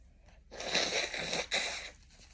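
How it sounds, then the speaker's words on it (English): A person blows their nose in two forceful, breathy honks, close and fairly quiet, the second burst shorter, with no talking. "I have to blow my nose."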